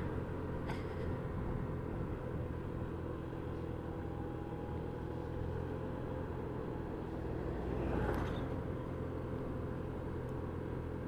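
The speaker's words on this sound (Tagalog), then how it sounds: "Tsaka naririnig nyo yung tunog ng makina." A steady, low idle of a TVS Dazz motor scooter engine rumbles on continuously with no voices, the motor humming evenly close by.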